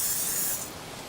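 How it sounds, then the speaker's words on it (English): Canola cooking spray hisses into a pan heating on medium for a breakfast wrap, one short steady burst of about half a second that cuts off into quiet room tone. "for the pan that I'm using, I do need to add a little bit of a cooking spray."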